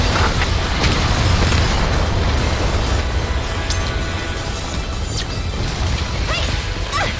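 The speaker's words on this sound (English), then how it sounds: "150mm cannon, fire!" 150mm cannons firing in the Earth Defense Force 5 video game, a loud dense barrage of booming blasts and crashes rolling continuously with no break.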